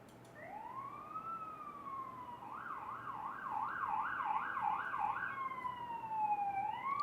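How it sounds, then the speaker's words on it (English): Emergency vehicle siren wailing at a distance, shifting from a long rising and falling wail into a rapid yelp and back, faint but clear over low background noise. "Fucking sirens."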